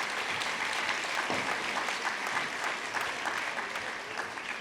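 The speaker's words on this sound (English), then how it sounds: "I want to give you all a clap because you're a big part of this." A graduation audience at a multicultural ceremony applauds steadily, a dense wash of many hands clapping at once, sustained and even throughout at moderate level, with no voices standing out.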